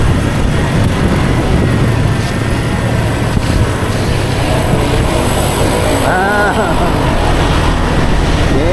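A motorcycle tricycle rides along a road with a loud, constant engine drone and road rumble that fill the whole stretch, close to the microphone, with no clear breaks.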